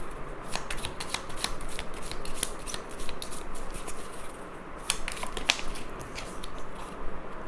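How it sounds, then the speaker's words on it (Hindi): A deck of tarot cards is shuffled over and over, a steady crisp riffling and flicking close by that runs the whole time with no break. "so let's shuffle a bit more"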